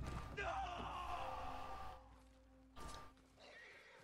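A horse in the video game Ghost of Tsushima lets out a loud, close whinny that trails off, then a second shorter call follows.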